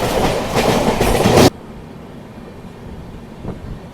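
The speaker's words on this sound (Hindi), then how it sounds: "यहाँ पर अपनी अभी सेवाग्राम एक्सप्रेस पहुँच रही है अपने पहले official halt Dadar railway station पर।" The Sewagram Superfast Express from Mumbai CSMT to Nagpur rolls loudly along the tracks with rapid clattering, then the roar cuts off abruptly, leaving a quiet, faint rumble.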